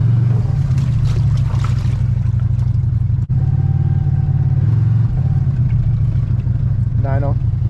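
A CFMOTO 800 EX ATV idling and creeping forward through deep water, with a loud, steady low engine drone that briefly cuts out once, while someone talks over it.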